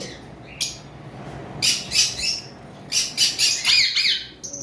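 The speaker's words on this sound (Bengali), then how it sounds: "এগুলো কোকাটেল" Caged white-face cockatiels call in sharp, bright bursts of squawks and chirps, several clustered calls coming close together with short quiet gaps between them.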